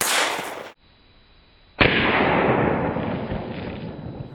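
A single loud, close gunshot from a Ruger 22/45 pistol firing a .22 hollow point round at a body armor vest, a sharp crack followed by a sustained noisy ring-out, after a brief quiet gap that follows an earlier burst of noise.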